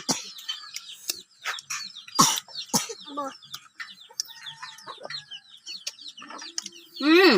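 Chickens cluck and squawk close by as they are fed outdoors, giving irregular bursts of calls with a few sharp, louder squawks. A person speaks intermittently among them.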